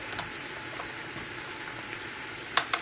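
A pan of sautéed vegetables for chicken soup heats up with the burner turned higher, giving a steady faint bubbling sizzle and a few brief louder crackles near the end.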